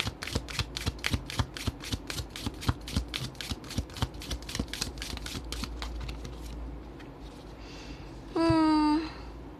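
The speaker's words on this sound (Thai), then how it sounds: "ขอเปิดไพ่คำแนะนำให้หนึ่งใบค่ะ" Oracle cards are shuffled by hand in a quick run of crisp, rhythmic riffling flicks that slow and fade, followed by a brief bright ringing chime near the end; close and clear, with no talking.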